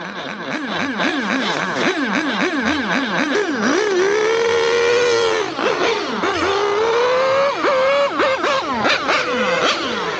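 Small RC cars race around an off-road track in the hills at Tai Tong, Yuen Long. Several loud, high-pitched engines whine continuously, their pitch swooping up and down as the cars rev and brake through corners.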